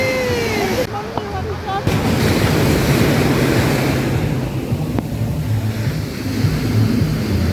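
Sea waves washing in at a South Goa beach, a continuous rushing surf mixed with wind buffeting the microphone, loud and close, with a brief voice near the start.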